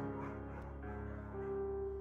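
A German Shepherd barks in the Firewatch video game, sounding alone over a steady background hum with a sustained tone near the end.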